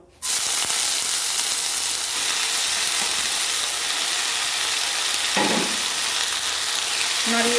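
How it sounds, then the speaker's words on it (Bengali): Garlic fries in a pan with a loud, steady sizzling hiss that starts abruptly and holds throughout, with a couple of faint stirring scrapes near the end and no voices. "রসুনটাকে এরকম একটু ভাজা ভাজা করে নেব"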